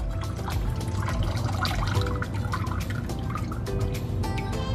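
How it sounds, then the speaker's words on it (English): Water pouring out of a container of hydrophobic sand, a continuous close splashing trickle with dense dripping and gurgling throughout, fairly loud and with no speech. "And then we pour the water out and watch it."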